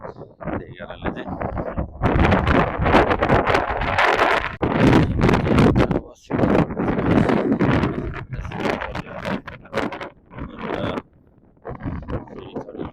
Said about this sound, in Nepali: हावा यस्तो जोली चलेको छ कि माइक पनि खस्ला कि जस्तो भइरहेछ